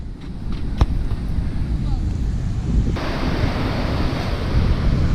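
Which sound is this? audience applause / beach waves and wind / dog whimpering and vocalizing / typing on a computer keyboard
beach waves and wind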